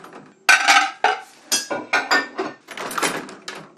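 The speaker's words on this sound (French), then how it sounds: "5h45, je vide le lave-vaisselle." Emptying a dishwasher early in the morning brings a series of close, bright clinks and clatters of dishes and cutlery, in irregular bursts separated by short pauses.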